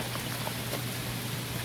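Rain falling steadily during Tropical Storm Fay at a New Jersey beach area, a quiet, even hiss of drops with no voices, lasting under two seconds.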